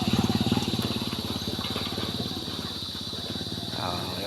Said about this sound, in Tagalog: may motor din